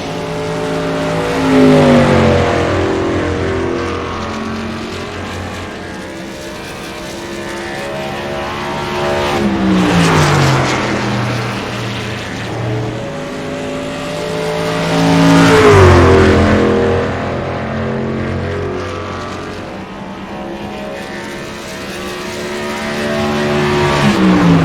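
In a sim racing video game, a race truck engine drones loudly and continuously, swelling in repeated rising revs and dropping back between shifts, with no talking over it.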